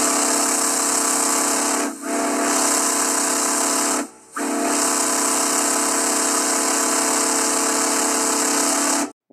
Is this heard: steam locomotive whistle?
yes